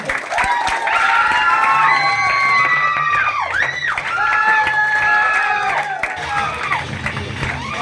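A crowd at a sales achievement celebration breaks into loud, sustained applause and cheering, with shouts and whistles rising over the clapping throughout.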